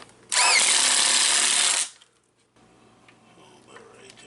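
A power drill whirs loudly for about a second and a half, driving screws to fix a new kitchen ceiling light in an RV, then cuts off, leaving quiet room sound with faint movement.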